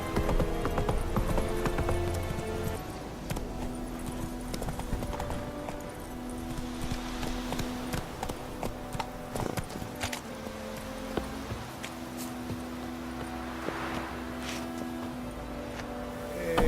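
Horse hooves trot at a steady clip-clop in The Witcher 3, a close, even rhythm of hoof strikes over a low game soundscape with occasional brief knocks, no talking.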